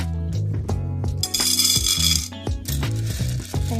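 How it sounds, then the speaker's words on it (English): Dry ditalini pasta clatters and rattles into a baking dish in several quick pours, sharp scattered clicks with short pauses between bursts. "Next, I'm going to add my ditalini pasta in."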